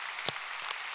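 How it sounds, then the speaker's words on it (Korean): A church congregation at Sunday worship gives applause of encouragement, a brief, soft, even patter of many hands heard from a distance. "격려 박수 해주시고."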